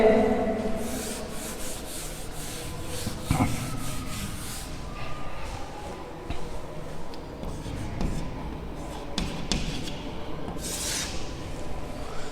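A board eraser rubs steadily across a classroom board during a physics lesson, producing a continuous close scrubbing and swishing with several harder strokes.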